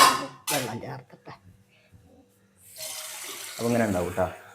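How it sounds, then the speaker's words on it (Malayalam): Water is poured from a tap into a fish curry on the stove, a rushing splash that runs for a couple of seconds. A voice talks before and over the pour. "വെള്ളം ചേർക്കട്ടെ"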